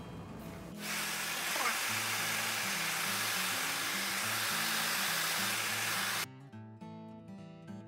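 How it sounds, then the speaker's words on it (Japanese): A hair dryer blows on hair treated with a leave-in product in a salon, giving a loud, steady rushing hiss for about five seconds over soft background music before it cuts off. "では次にドライヤーで乾かしていきます。"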